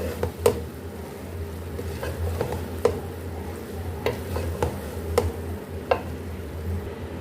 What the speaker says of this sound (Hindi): अब इसमें हम प्याज और टमाटर दोबारा डाल लेंगे। इसमें हमने डाल दिया। अब इसको हम अच्छे से मिक्स कर लेंगे।